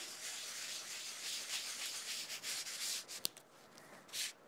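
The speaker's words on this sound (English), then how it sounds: "this Rub It Scrub It pad will actually refine those flakes, taking off the excess that you don't need" A Rub It Scrub It pad rubs gilding flakes across a die-cut rose design, giving a steady, close, soft scratchy scrubbing with brief pauses and one sharp tick partway through, no voices.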